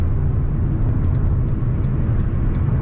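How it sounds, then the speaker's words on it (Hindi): Steady dense rumble of tyre and road noise heard from inside a moving Maruti Brezza on a rough, broken mountain road in Uttarakhand, continuous and fairly loud with no talking. "जो जैसे टायर नॉइज़ आ रही है ना"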